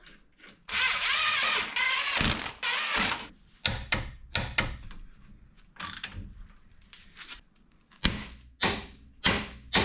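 Ratchet wrench working bolts on the intake of a Volkswagen Jetta TDI, with a long run of fast clicking at the start followed by short irregular bursts of ratcheting and metallic clanks, close up.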